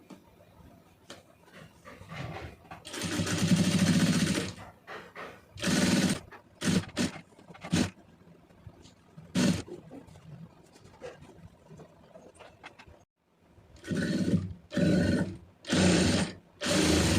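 A domestic sewing machine stitching all the way around two pieces of cloth runs in several loud, close bursts of steady motor whir, separated by pauses with quieter handling sounds and faint talk.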